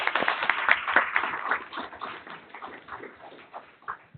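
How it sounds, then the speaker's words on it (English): Meeting audience at a work session applauding, a dense, steady patter of many hands clapping up close that gradually thins and softens, with no one speaking over it. "please give her a round of applause."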